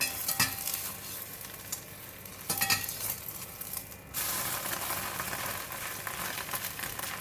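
Thin egg omelette sizzling steadily in a hot pan, with a few soft scraping clinks of a utensil as it is flipped partway through, the fizz swelling louder afterward; no talking.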